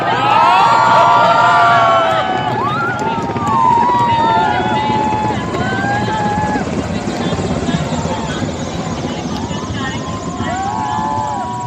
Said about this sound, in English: Helicopters from 129 helicopter unit proudly flying with the unit's motto, Shaurya.